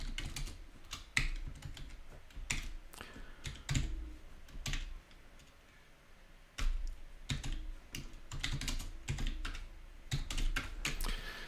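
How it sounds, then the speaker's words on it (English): Keys clack on a Commodore PET computer keyboard in irregular bursts of close, crisp clicks, with a brief pause midway and no talking. "Oh, I'll just type it in."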